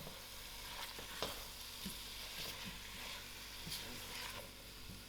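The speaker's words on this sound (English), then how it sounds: "Give the potatoes a mix." Potatoes being stirred and fried in a pot of spicy goat curry, a steady low sizzle with scattered soft scraping and clinks from the spoon throughout, fairly quiet and with no voices.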